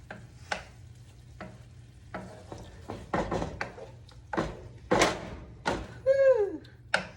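Nasi goreng, Indonesian fried rice, being stirred with a spoon in a pan: scattered scrapes and knocks of the spoon against the pan over a low hum, with a faint whistling tone near the end.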